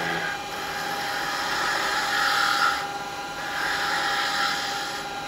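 An R2 skew cuts a baby rattle spinning on a wood lathe, a steady close whir with scraping hiss that swells and fades in passes, with a brief dip near the middle.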